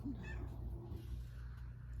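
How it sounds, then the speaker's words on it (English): A house cat begging for attention gives a short, faint meow early on, heard indoors against a low steady background hum. "sorry, my cat is begging for attention"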